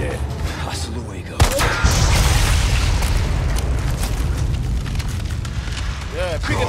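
A rocket launcher fires and its round explodes in Resident Evil 4, a sharp loud burst followed by a sustained roaring rumble, with game sounds and voices over it.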